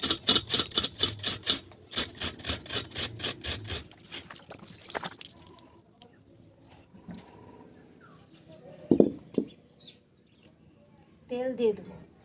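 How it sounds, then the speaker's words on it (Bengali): A coconut is grated by hand in a village kitchen, fast rhythmic rasping strokes for the first few seconds, followed by quieter scrapes, clatter and a few sharper knocks. "এই যে নারকেল নিয়ে নিয়েছি, নারকেলটা আমি কুড়িয়ে নেব"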